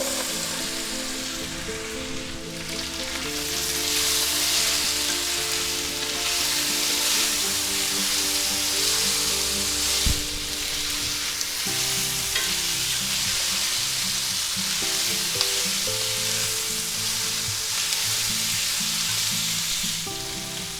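Celery hitting hot oil in a spicy chicken and mushroom stir fry, a loud, steady sizzle and crackle that holds for the whole stretch with occasional stirring clatter and no voices.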